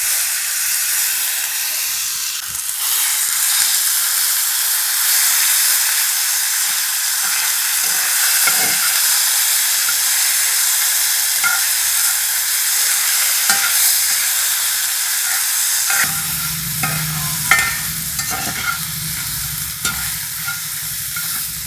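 Tomato sizzles loudly in a spice tempering of cardamom, cinnamon, cloves and a ginger, cashew and green chili paste, making a constant frying hiss with stirring scrapes that shifts to a deeper bubbling sputter partway through.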